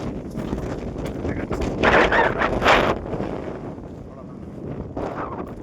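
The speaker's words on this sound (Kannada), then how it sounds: "ತುಂಬ ಜೋರು ಗಾಳಿ ಬೀಸ್ತದೆ." Strong wind blows on the hill road to Kotebetta in Coorg, buffeting the microphone in uneven gusts that swell loudest in the middle and ease off toward the end.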